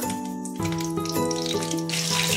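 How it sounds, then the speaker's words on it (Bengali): Five-spice seeds and green chili hit hot oil in a home kitchen, sizzling and crackling loudly and continuously, with a steady musical tone running underneath throughout. "গরম তেলে একটু 5 ফোড়ন দিয়ে দেবো, একটু কাঁচা লঙ্কা।"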